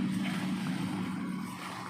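A loaded truck of over two tons grinds up a slope in first low gear on a palm-harvesting route, its engine giving a steady, close, droning hum.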